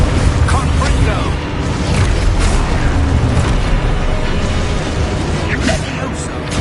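Confringo blasting spells explode during spell combat in the video game Hogwarts Legacy. Loud, dense booms and crashes pile up over continuous battle noise, and a voice shouts over the blasts.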